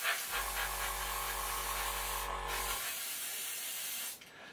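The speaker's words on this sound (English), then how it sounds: "you can open the brush up and spray" Airbrush sprayed wide open with paint, a steady close hiss lasting a couple of seconds with a low compressor hum underneath, then cutting off into a quieter background hiss.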